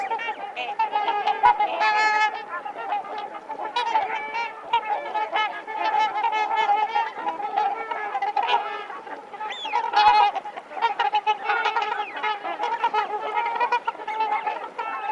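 Many geese honk continuously in a noisy flock by ice and open water in the Yukon, overlapping calls near and far with no pauses, a constant clamor of nasal honks.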